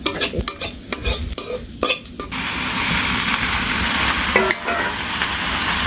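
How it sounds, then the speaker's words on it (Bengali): Onions are fried in oil until reddish, opening with several rhythmic scrapes of a utensil stirring the pan, then settling into a steady, loud, close sizzle. "পেঁয়াজগুলো একটু লাল লাল করে ভেজে নিলাম"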